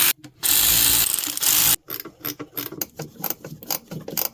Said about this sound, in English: we'll torque these down to 18 foot-pounds or 216 inch-pounds